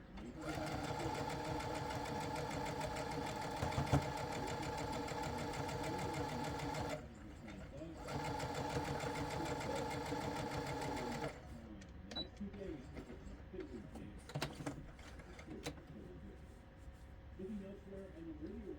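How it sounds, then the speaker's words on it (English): Sewing machine stitching fabric down to a corner, a steady mechanical whir of needle strokes that pauses briefly, resumes, then gives way to lighter handling noises and intermittent clicks near the end. "And sew down to this corner."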